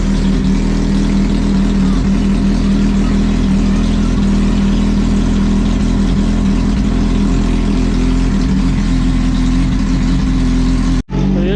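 A motorcycle started cold after sitting unused for ten days idles steadily with a loud, low, continuous engine drone, close by, before cutting off abruptly near the end.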